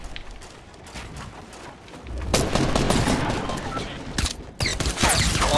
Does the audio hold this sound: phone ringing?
no